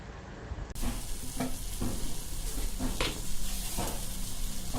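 Toor dal and moong dal are stirred into pongal in a pot, making a steady frying sizzle broken by a few soft scraping strokes, close up, with no talking.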